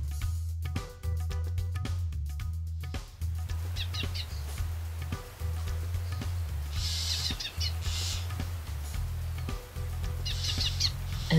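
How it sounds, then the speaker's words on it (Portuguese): Wild birds singing in spring, with scattered high chirps and short bursts of song rising over a steady, loud musical background that runs throughout. "As aves partem em busca de alimento para os seus filhotes. Cantam alegremente, voam para os seus ninhos"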